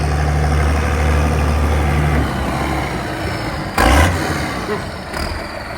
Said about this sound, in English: Can you hear the beastie Cummins engine?